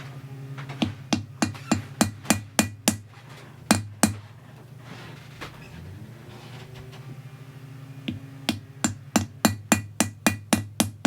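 A hammer strikes a metal stamp on a ring shank held in a vise, with sharp metallic taps in quick bursts, first a rapid run, a pause, then another fast series. The taps are close and crisp and no one talks.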